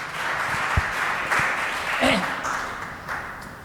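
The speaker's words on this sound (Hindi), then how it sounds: "ताली बजाइए अपने लिए।" Audience applause at a Vedic medicine talk: a steady wash of many hands clapping, moderately loud and continuous for a few seconds, with a voice briefly heard over it.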